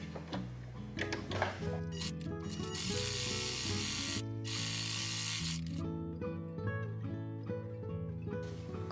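A sewing machine runs straight stitches on an apron being made from an old bedsheet, a close, rapid mechanical clatter that runs continuously over background music.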